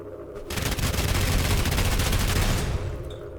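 Rapid automatic gunfire in the video game SULFUR, one dense sustained burst lasting about two seconds, loud and close, then tapering off.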